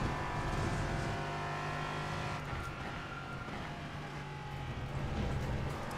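A GT race car engine drones steadily in Assetto Corsa Competizione on the Nürburgring Nordschleife, a sustained high-revving whine, moderately quiet with no talk.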